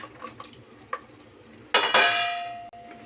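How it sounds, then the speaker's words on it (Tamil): A utensil stirs tomatoes in a frying pan: a few light scrapes and taps, then a louder burst of sizzling and clattering that fades over a couple of seconds, with no talking. "இது நல்லா கிளறி விடுங்க. தக்காளி நல்லா மசியட்டும்."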